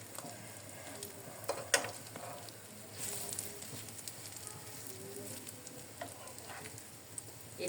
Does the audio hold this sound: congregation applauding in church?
no